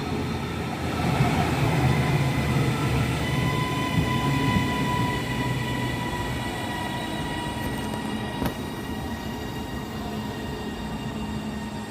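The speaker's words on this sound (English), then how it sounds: "Train on platform 3 is now departing to Manchester Airport, calling at all stations to Manchester Airport." A Class 331 electric multiple unit departs platform 3 at Preston station on a service to Manchester Airport, giving a steady, close rolling rumble with a rising motor whine and a sharp metallic click partway through.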